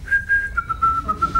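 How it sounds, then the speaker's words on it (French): A man whistles a short, thin, steady tune in a bathroom while pretending to fix a sink trap, a single close sustained note that bends slightly, clear and alone. "il fait semblant de réparer le siphon en sifflotant"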